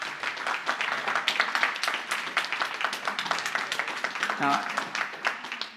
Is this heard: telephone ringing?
no